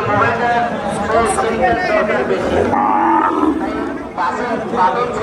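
Cattle at a crowded Qurbani livestock market in Bangladesh low and moo amid dense crowd chatter, with someone talking nearby over the din.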